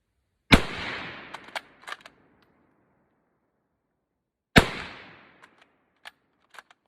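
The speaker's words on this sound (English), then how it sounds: "Today we've got the Carcano Model 1891 long rifle." A Carcano Model 1891 long rifle in 6.5 Carcano fires two loud, sharp shots about four seconds apart. Each crack is followed by a decaying tail and several smaller clicks and knocks of mechanical handling.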